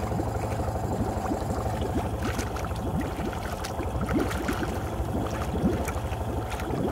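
A Honda engine idles while submerged deep underwater, a steady muffled bubbling churn with a low rhythmic pulse that holds loud and even throughout, its revs dipping and slowly recovering.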